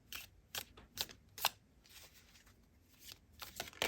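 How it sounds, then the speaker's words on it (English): A pile of tarot cards being shuffled by hand, a series of crisp riffling bursts and soft slaps at an uneven rhythm, close and fairly quiet with no talking. "And let's shuffle this pile."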